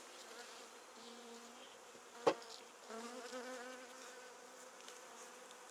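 A honeybee swarm at a hive in Biddenham fills the air with a steady, dense buzzing, broken once midway by a brief sharp knock close by.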